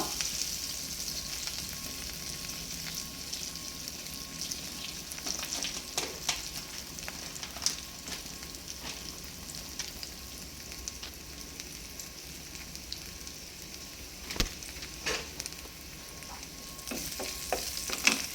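Onions fry in a pan for pasta, a soft continuous sizzle and crackle at moderate distance, broken by scraping stirring strokes and occasional sharper clicks of the utensil against the pan, with no talking.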